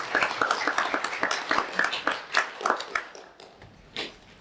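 Applause for debate speakers, a moderate round of clapping from a seated audience, fairly quiet and distant, with individual claps audible and thinning out toward the end.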